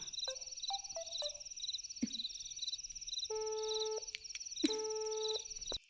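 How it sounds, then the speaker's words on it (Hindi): Phone tones from a call that will not go through during a power cut at home: short repeated beeps, then steady beeping line tones that start and stop, over a constant high electrical whine. "अरे उसका फोन तो लग ही नहीं रहा है।"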